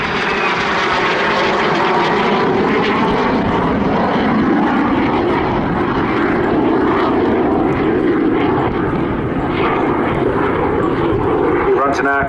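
BAC Strikemaster jet aircraft, Sultan of Oman and Royal Saudi Air Force marks, flying at Southport Airshow 2022: a loud, continuous engine roar holding steady throughout, with a commentator talking over it.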